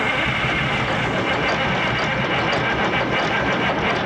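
A 1979 GMC cabover's two-stroke Detroit diesel engine cranks without starting, a steady, loud, close mechanical churning that keeps a constant pulse throughout, with no voices.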